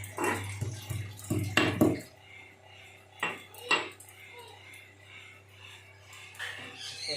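Ingredients for a homemade cough remedy crushed with a pestle in a mortar: a few sharp knocking, clattering strikes early on, then two more isolated hits, close and fairly loud against a quiet kitchen background.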